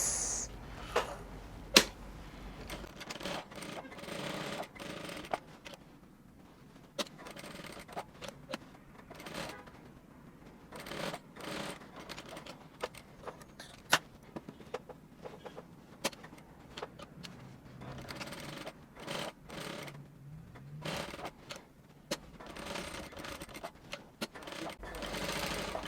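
A sewing machine stitches a corset dress in quick, uneven bursts of whirring, starting and stopping repeatedly at fairly low volume.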